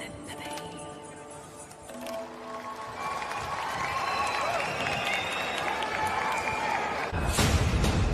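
An audience at a live concert applauds as a song by a band and a singer ends, crowd noise swelling gradually beneath the fading music and vocals and growing louder near the end.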